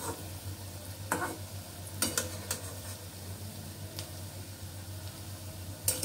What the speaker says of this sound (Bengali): ছানাগুলো একটু আমাকে লাল লাল করে ভেজে নিতে হবে।